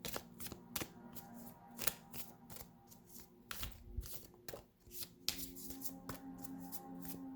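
Tarot cards being shuffled by hand, a rapid series of crisp riffling snaps and soft slaps in irregular bursts, close and quiet, with no talking.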